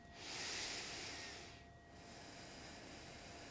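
A deep breath drawn during a wall-supported yin yoga session, a loud hissing inhale swelling then easing into a softer, steady airy exhale, close and alone with no talk.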